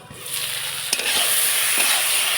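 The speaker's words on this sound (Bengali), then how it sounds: "আলু ভালোভাবে ভাজা হয়ে এসছে" Potatoes tossed in a hot pan give a continuous close sizzle with a few scraping stirs of a spatula, steady and fairly loud throughout, no talking.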